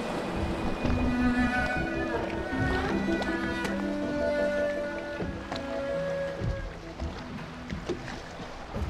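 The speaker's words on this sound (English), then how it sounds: "I should concentrate on piloting this boat." In the video game Dishonored, steady rushing water and a boat's churn fill the scene, with soft tonal music notes drifting over the top.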